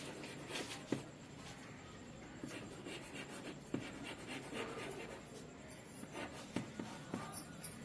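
Marker or chalk writing on a board during a class 8 maths lesson, with a steady scratchy scraping texture and a few sharper taps, continuous and close with no voice.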